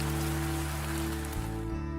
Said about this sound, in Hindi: बारिश होने के साथ साथ ठंड भी बहुत ज्यादा बढ़ जाती है।